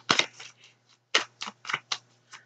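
A deck of tarot cards being shuffled on a table in a quiet room, giving brisk papery riffles and clicks in short bursts with brief pauses between, close and alone with no talking.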